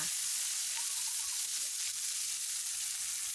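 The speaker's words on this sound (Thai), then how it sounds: "พอน้ำมันของเราร้อนได้ที่เราก็จะใส่เนื้อลงไปเลยค่ะ" Steady, dense sizzling of beef frying in hot oil over high heat, continuous and fairly close, with no talking.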